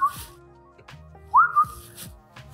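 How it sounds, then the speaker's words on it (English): A person whistles a couple of brief, close, high notes, a short opening chirp and then a rising two-part whistle, with soft room noise around them and no talking. "I'm no whistling on the channel, please."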